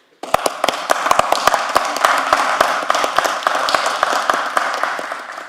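An audience claps at a swearing-in ceremony for the Little Haiti Revitalization Trust, a brisk burst of many hands starting suddenly and holding steady, with sharp individual claps standing out, alone without talk.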